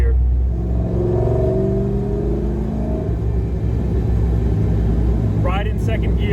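Camaro with a freshly built forged 6.0 V8 rolling downhill in second gear, a loud deep rumbling drone that shifts pitch midway, with someone talking over it.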